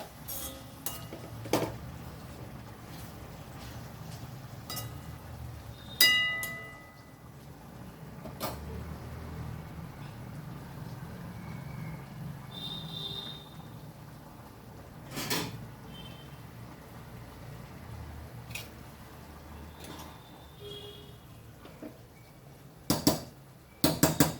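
Food slowly stirred and mixed in a metal pot, heard as sparse, quiet spoon clinks and scrapes spaced several seconds apart over a hushed kitchen background.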